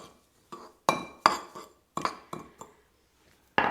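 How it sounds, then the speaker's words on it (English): A spoon stirs a herb salt mixture in a dish, giving a handful of sharp, separate clinks and taps against the dish, close and clear, with quiet gaps between them. "Give that a nice stir,"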